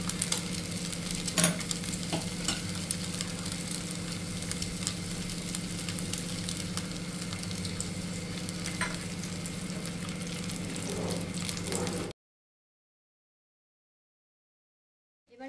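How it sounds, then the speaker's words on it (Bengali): Bhetki fish fillets sizzle in hot oil in a pan, a steady loud hiss of frying with occasional pops and light scraping, continuous and close, then abruptly silent. "এই সাইডটাও আমি 15 মিনিট ধরে ভাজবো।"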